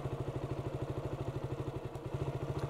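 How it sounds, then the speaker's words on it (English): A motorcycle engine runs with a steady, rapid mid-low pulsing throb, close and continuous, as the bike pulls away with the clutch eased out slowly, with no talking over it. "So I should release the clutch slowly, feel the bike move."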